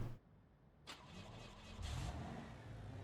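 A van in the BeamNG driving game, fitted with a new V6 engine, cranks briefly and then catches, settling into a steady, fairly loud running hum that rises slightly toward the end, with no talking.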